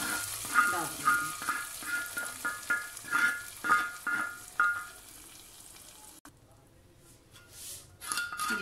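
Hot tadka tempering poured into dal mash, sizzling and frying with a rapid run of clinking utensil taps on the pot, then settling into a quieter hiss.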